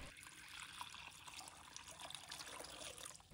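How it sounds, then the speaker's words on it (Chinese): Clean water poured into a pot holding goji berries and red dates, a faint, steady trickle and splash heard alone. "倒入清水"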